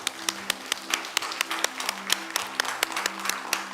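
A church congregation applauds, sharp hand claps falling in an even, rhythmic beat over a softer wash of scattered clapping, fairly close and lively.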